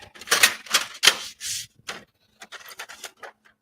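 A Crio 8432WDT printer feeds paper through a straight path in a series of short, rapid mechanical bursts, loud and close, ending in a few lighter clicks.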